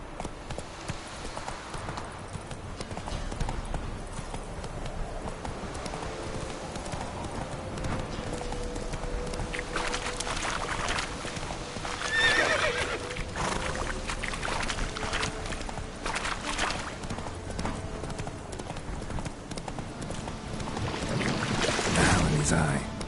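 Roach, the horse in The Witcher 3, trots along with steady rhythmic clip-clopping hooves over ambient game sound, a brief whinny rising toward the end, with a voice speaking at times.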